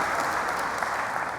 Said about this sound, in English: I think we should give them a round of applause for that